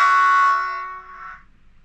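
A DB class 152 electric locomotive sounds its second horn: one loud, sustained steady blast lasting about a second, then fading out, heard alone with no talk.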